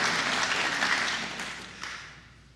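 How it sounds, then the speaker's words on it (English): Congregation applauding during a church sermon, a dense wash of clapping that starts full and gradually thins and fades over a couple of seconds, with no voices over it. "Yeah, you can clap for that."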